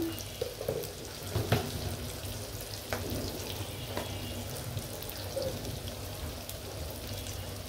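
Onion frying in oil for a hilsa fish curry gives a steady, close sizzle and crackle throughout, with a few small pops and clinks and no talking.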